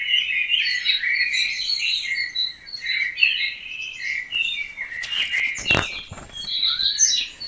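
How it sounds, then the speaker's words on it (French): Amigo, Aunt Lucie's pet parrot, calls with a constant run of bright chirps and whistles, close and lively, plus one brief rustle partway through, and nobody speaks. "Amigo, c'est le perroquet de tante Lucie."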